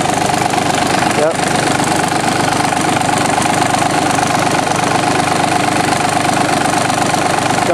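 A John Deere F1145 diesel mower engine idles close by with a steady, slightly knocking rumble, and someone talks over it.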